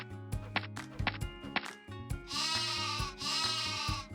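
Sheep bleating loudly in a rhythmic, cartoonish sequence with thumping beats, followed by two longer drawn-out bleats, close and prominent; cartoon sheep counted at night.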